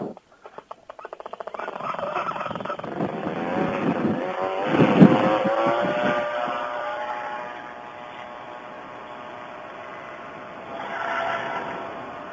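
A paramotor engine winds up to full throttle for a launch, starting with sputtering pulses and building into a loud, sustained buzzing roar that peaks and then holds at a steady drone.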